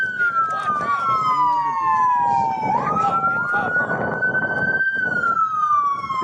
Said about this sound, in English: It's siren.